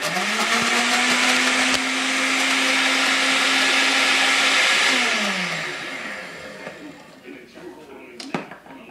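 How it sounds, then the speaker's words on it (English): A blender mixes ice cream for a hot shake, giving a loud, steady motorized whir for about five seconds before it winds down into quieter clatter and handling noises. "gotta mix up the ice cream"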